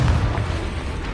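Confringo blasting spell in a wizard game erupts as a deep, booming explosion that hits hard at the start and rumbles away steadily, loud and close.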